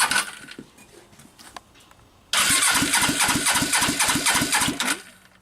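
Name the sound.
Suzuki GS500 motorcycle engine cranking and starting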